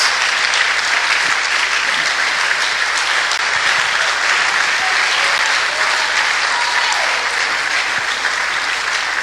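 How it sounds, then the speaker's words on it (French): A church congregation claps together in a loud, dense, sustained burst of applause that holds steady without a break. "Stand up and clap your hand if you understand this."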